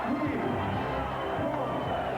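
A boxing arena crowd roars steadily in appreciation during a 1989 Mike Tyson bout against Jose Ribalta, a dense, continuous hubbub of cheering and voices with a commentator talking over it.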